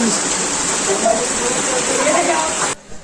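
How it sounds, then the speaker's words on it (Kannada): Water running steadily through a stream inside a cave temple, a dense rushing wash at close range that cuts off abruptly at the end, with a voice speaking over it. "ಈ ರೀತಿಯಾಗಿ ನೀರು ಹರಿತಾ"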